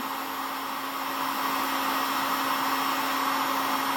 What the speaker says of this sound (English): But I find a heat gun is a bit less aggressive.